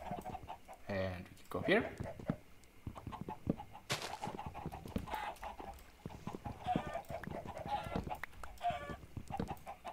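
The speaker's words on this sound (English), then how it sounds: "Go away, chicken." Chickens cluck in the Minecraft video game in short, repeated bursts that are close and fairly clear, mixed with footsteps and game noises while a person talks quietly in between.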